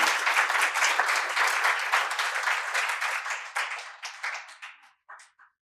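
An audience applauds at a Gujarati literary talk, dense clapping from many hands that holds steady and then thins out to a few scattered claps before stopping.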